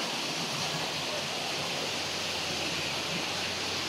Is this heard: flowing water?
yes